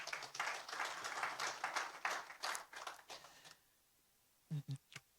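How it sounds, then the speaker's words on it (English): Applause from a dinner audience honoring a woman, a dense burst of clapping for about three and a half seconds that fades out, followed by a couple of brief, separate sounds. "a round of applause for her."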